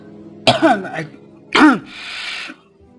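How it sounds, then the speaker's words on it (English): A man coughs twice in close succession, each a sharp, loud burst, the second followed by a breathy clearing of the throat, close to the microphone during a Red Alert 3 game commentary. "been coughing all day"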